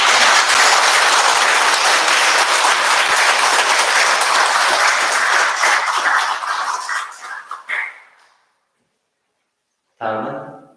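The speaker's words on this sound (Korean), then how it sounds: "우리 대담 스님께 큰 박수 한번." A big round of applause for a Buddhist monk after his dharma talk at a temple service, dense crowd clapping that swells loudly, thins out and stops, followed by a voice.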